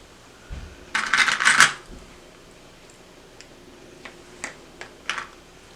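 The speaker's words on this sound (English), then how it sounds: "And I'm just clipping this to hold it in place." A sewing clip snaps onto a zipper and bag fabric with a brief rattling clatter, followed by a few light, scattered ticks and taps.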